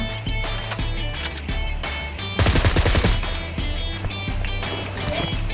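A quick burst of suppressed gunfire in PUBG Mobile, muffled rapid shots lasting under a second amid low background game sounds.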